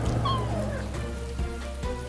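A giant cartoon cat cries with drawn-out wailing meows over a steady wash of rain, close and fairly loud, with a couple of soft thuds near the end.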